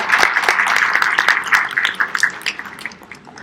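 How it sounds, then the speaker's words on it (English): Audience at a youth town hall in Brunei applauding, a steady wash of many hands clapping that stays fairly loud, then thins and fades toward the end. "Please give a round of applause."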